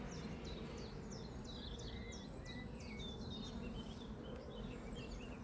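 Honeybee colony during a hive inspection, a low continuous buzzing hum beneath faint outdoor bird chirps, quiet and steady without talking.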